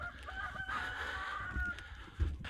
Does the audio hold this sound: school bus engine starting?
no